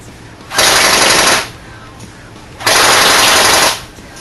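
SA80 airsoft rifle on a 7.4 volt LiPo battery firing full-auto at about 11 rounds per second, two loud close bursts of roughly a second each separated by a short quiet pause.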